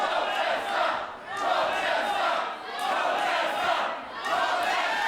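A wrestling crowd at a GWF Showdown 2022 show chants and roars in rhythmic waves of voices that rise and fall loudly across the arena, with no clear commentary.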